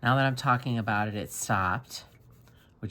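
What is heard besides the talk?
No distinct noise like a dog, phone or traffic.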